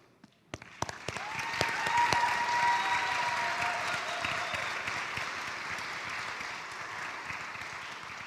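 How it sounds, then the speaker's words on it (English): An audience at a Doctor of Physical Therapy white coat ceremony erupts into applause after a few isolated first claps, swelling into full, steady clapping with faint cheering and a brief whistle-like tone in the room. "Let's give them a round of applause."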